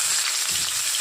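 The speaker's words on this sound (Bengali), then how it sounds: "এখন পেঁয়াজ কুচিটা দিয়ে দিলাম।" Chopped onion sizzles in hot oil in a kadai with dried red chillies, a steady, loud, dense frying hiss lasting throughout with no talking.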